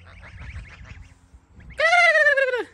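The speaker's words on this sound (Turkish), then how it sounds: "Bak gazlar da burada la." Soft scattered bird chatter, then a sudden loud, drawn-out goose honk close by, sliding downward in pitch.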